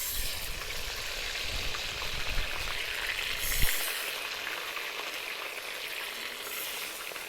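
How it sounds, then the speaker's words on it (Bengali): Spice-coated chicken hits hot oil seasoned with bay leaf and whole dried chilli, bursting into a loud, close, continuous sizzle with stirring, frying for a village-style chicken dum biryani. "এবার আমি মশলা মাখানো মাংসগুলো দিয়ে দেবো।"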